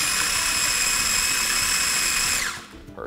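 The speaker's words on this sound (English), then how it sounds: "This little chopper makes short work of it." A Cuisinart mini food chopper whirs loudly at high speed mixing a paprika-tinted tartar sauce, a steady motor whine that winds down and stops after a couple of seconds.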